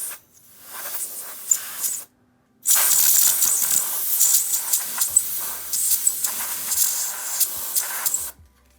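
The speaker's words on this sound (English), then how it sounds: "we're going to also use the canned air to blow it out." Canned air blasting into an iPhone X charging port, a loud, close hiss in a brief burst, then a longer sustained spray after a moment of silence.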